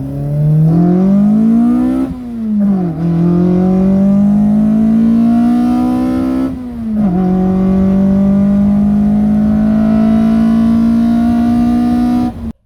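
A Toyota AE86 being driven hard, its engine loud and close as it revs up through the gears, with audible drops between shifts and a steady rising whine throughout.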